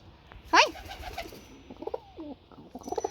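A pigeon in a loft gives a few soft, throaty coos after a sharp flutter or call, fairly close, with light rustling and other faint bird sounds around.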